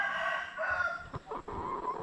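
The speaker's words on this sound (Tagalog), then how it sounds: "ito na yung manok natin" RTL chickens near laying age cluck and murmur continuously in a busy coop, with a brief sharper squawk partway through, fairly close and steady.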